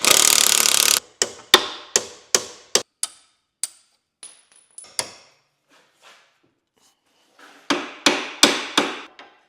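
An impact gun frees a stiff car axle nut: a long opening burst of hammering, then a string of sharp, separate rattling blows that thin out, pause, and return as a second quick cluster of loud impacts.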